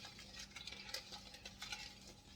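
A spoon works vegetable oil into a cinnamon roll mixture, a faint, close patter of soft wet stirring strokes in quick succession.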